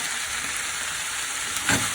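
A stir fry sizzles steadily in a pan with sesame seed oil, cooked without a wok, a close, even frying hiss with a brief stirring scrape near the end.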